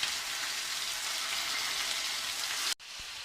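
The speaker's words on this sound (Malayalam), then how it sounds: "ഇത് ചെറുതായിട്ടൊന്ന് ഫ്രൈ ചെയ്താൽ മതി." Chicken pieces fry lightly in a pan with a dense, bright, continuous sizzle that cuts off abruptly near the end, leaving a quieter crackle.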